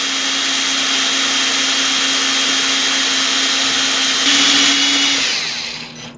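A drill bit sharpener gives a steady, high-pitched mechanical whirring that grinds on for several seconds, shifts pitch briefly near the end, then winds down.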